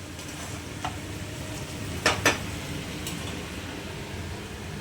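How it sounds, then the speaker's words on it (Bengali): Eggplant (brinjal) slices frying in a pan at home, a steady low sizzle with a few sharp stirring scrapes around the middle and no talking. "দেখুন বেগুনগুলো ভেজে নিচ্ছি ভালো করে।"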